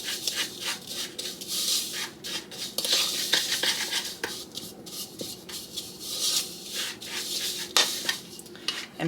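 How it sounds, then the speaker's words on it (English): A spoon stirs a brown sugar mixture in a bowl, giving continuous close scraping and rubbing with light clinks of utensil against the dish, steady and unaccompanied by speech. "what you do is you just mix it up, and it'll turn into a brown sugar mixture"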